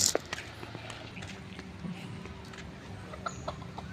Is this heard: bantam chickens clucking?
yes